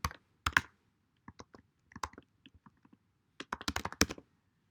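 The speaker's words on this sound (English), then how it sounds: "I'll type it over here." Computer keyboard typing in bursts of quick key clicks, close and crisp, with short pauses between groups of strokes and no talking.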